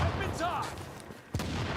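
In The Division, enemies shoot at a supply cache during a global event, with several sharp gunshot cracks going off under an automated warning voice and other game sounds, one louder burst near the end.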